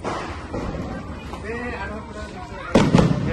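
A leftover wedding firecracker bomb with a cotton wick bursts with a loud, sudden bang near the end, set off outdoors during Diwali celebrations in a village, following a stretch of people talking nearby.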